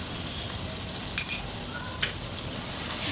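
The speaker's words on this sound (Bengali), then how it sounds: "এভাবে এগুলোকে ভালো করে নেড়ে চেড়ে নিব" Chicken stirred in a pan with chili, coriander and turmeric powders and salt gives a steady soft sizzle, with two brief metallic clinks of the spoon against the pan.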